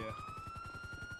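Police car siren from the GTA 5 video game, a steady rapidly warbling electronic wail held loud and close for just over a second, with no talk over it.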